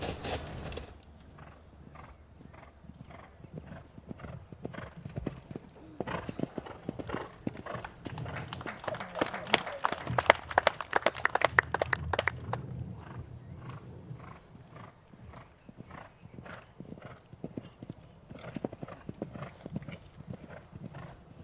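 A small but powerful horse moving in a riding arena, its hooves striking in a steady rhythmic clip-clop from near to mid-distance, with a whinny around the middle and faint voices underneath.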